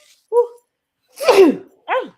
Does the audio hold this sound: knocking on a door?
no